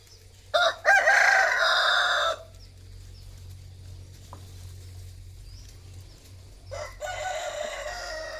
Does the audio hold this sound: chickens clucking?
yes